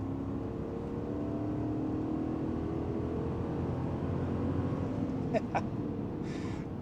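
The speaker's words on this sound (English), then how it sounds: "if I move into the sport drive mode and put my foot to the floor" 2026 GMC Yukon Denali Ultimate engine pulling hard under full throttle in sport drive mode, heard from inside the cabin as a steady, muffled droning rumble with road noise, faint and continuous, with a couple of brief ticks near the end.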